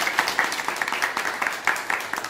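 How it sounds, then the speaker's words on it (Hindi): An audience applauds steadily at the close of a repair class on chip-level SMD electronics, with rapid, dense clapping from many hands that stays loud and even for a couple of seconds. "ताली बजा दीजिए।"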